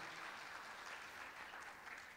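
A crowd of young people at an Indonesian church youth revival service claps in a dense, sustained burst of applause, steady throughout without a break.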